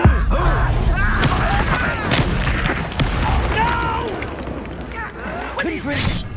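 Spell blasts in Hogwarts Legacy, Confringo and Bombarda: a rapid run of sharp booming bursts and pops with whooshing magical swells, dense and loud, crowding each other through the clip over busy combat sound.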